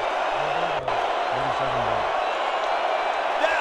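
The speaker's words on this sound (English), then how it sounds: "Crowd getting restless over these dumb penalties." Restless stadium crowd at a football game, a broad steady murmur with scattered shouts filling the background while a commentator talks over it.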